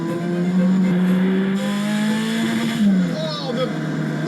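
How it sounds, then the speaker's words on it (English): Ariel Atom 4R engine revving hard up to the rev limiter, a loud close whine that holds and then drops as it cuts out, with people talking over it. "the rev limiter is brilliant"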